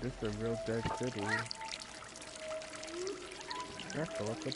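Water pouring into a bucket in the game Stray, a soft continuous trickle running faintly behind a person's speech in the first and last moments.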